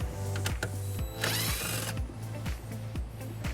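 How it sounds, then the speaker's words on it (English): Power tool with an 8mm socket spinning out a bumper bolt on a 2022 BMW X3, a close, whirring run of short repeated bursts with a brief higher ratcheting whine in the middle. "We'll need to use an 8mm socket to remove it."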